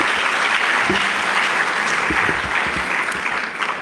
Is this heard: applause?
yes